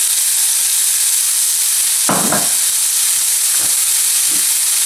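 Shallot, garlic and parsley sizzling in a hot pan: a loud, steady frying hiss throughout, broken by a couple of brief clinks and scrapes near the middle.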